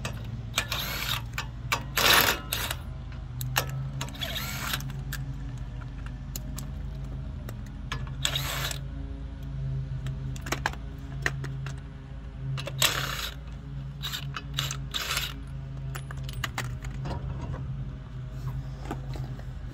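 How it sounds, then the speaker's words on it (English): A car tire being taken off with hand tools, heard as sharp metallic clinks and rattles that come in irregular bursts over a steady low hum, close by, with no talking. "But you want to take your tire off, which I'll do that right here real quick."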